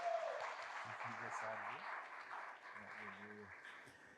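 A church congregation claps during an evening celebration service, a steady wash of applause running throughout while a voice speaks over it at moderate distance.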